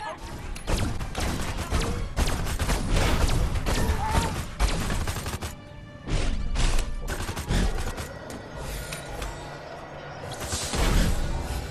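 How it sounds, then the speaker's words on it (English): Remastered THQ action game on PS5 plays dense bursts of gunfire, thuds and explosions in rapid clusters, loud and chaotic with brief lulls. "The explosions, lasers, screams of agony, and snarky remarks all sound so much more realistic"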